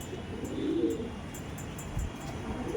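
Pigeons in a loft at Koikhali, a male and a female of the Andra Madras type, give a soft low cooing close by, a rolling coo swelling briefly near the start over a faint steady background hum.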